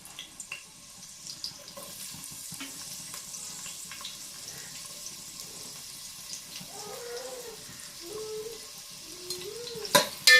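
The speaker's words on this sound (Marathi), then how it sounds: "आता याच्यामध्ये आपण चिरून घेतलेला कांदा टाकूया आणि तोही परतून घेऊया" Chopped onion dropped into hot oil with a handful of curry leaves, sizzling steadily and close for chicken rassa, with a few clinks and scrapes of stirring and no talking.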